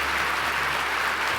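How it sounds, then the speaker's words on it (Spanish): An audience at a business talk gives dense, sustained applause that is loud and even throughout, with no gaps and no speech. "Un fuerte aplauso, por favor."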